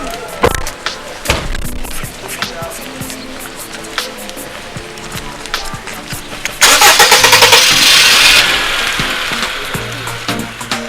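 A car engine cranks and catches with a few sputtering turns, then revs up loudly and settles into a steady running idle, heard close up.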